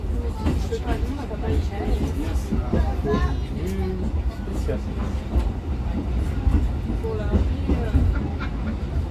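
The Petit Train de La Mure, a small tourist train, rumbles and clatters along the rails with steady clicking and squealing metal, while people talk over the noise throughout.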